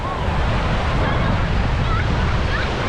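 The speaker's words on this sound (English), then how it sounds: "And this is the Atlantic Ocean here." Atlantic Ocean surf rolls onto the beach at Playa Santa Maria in Cadiz, Spain, a continuous broad wash of breaking waves with wind buffeting the microphone, steady and close throughout.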